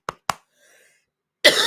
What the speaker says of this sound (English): There's the coughing now.